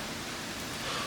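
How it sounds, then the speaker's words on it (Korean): Heavy rain falling outside on a hot day, a dense, even hiss of downpour heard from indoors, steady and unbroken, with no voices. "와 지금 빗소리 들리시나요?"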